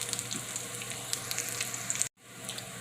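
Corned beef hash fries in a pan with a steady, close sizzle and crackle that runs unbroken, then drops out abruptly near the end before returning more quietly.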